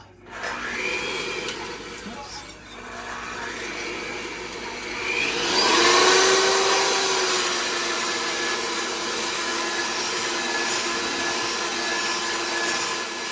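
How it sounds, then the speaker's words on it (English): Egg whites, three-quarters of a cup, whipped until frothy with an electric mixer for a snow pudding: a steady close whirring drone that runs throughout and rises slightly in pitch and strength partway through. "we're gonna beat those 3/4 cup of egg whites until they're frothy"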